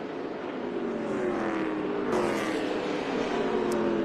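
ARCA Menards Series stock cars roar around the track during the 2021 Crosley Record Pressing 200, a loud, continuous engine drone whose pitch shifts as cars sweep past, with no voices heard.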